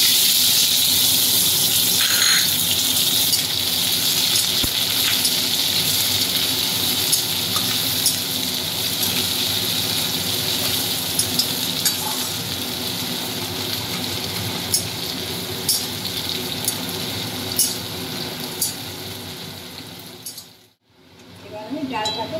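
Chopped onion sizzles and crackles in hot oil in a pan for masoor dal with jute leaves, a steady close frying hiss with light clinks, fading out briefly near the end.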